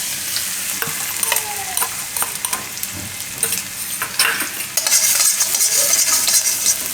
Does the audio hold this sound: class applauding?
no